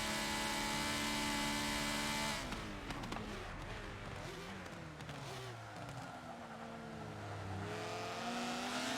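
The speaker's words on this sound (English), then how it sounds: "It's cool to hear my car though, even though I can barely hear it" Racing car engine in Forza Motorsport 7, a steady high-pitched drone that drops as the car shifts, then rises again through the gears, loud and continuous with no talking.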